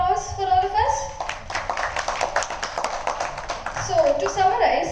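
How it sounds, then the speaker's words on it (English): Workshop participants at a government agency event break into applause, a burst of many hands clapping for a few seconds between stretches of talk, moderately loud in a room. "let's have a big round of applause for all of us"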